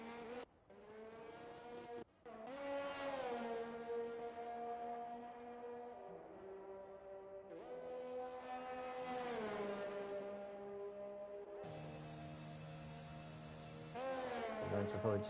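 Race car engine in a racing video game held at high revs on a fast lap around Baku, with rising and falling pitch through gear changes and one sharp cut, loud and continuous without talk.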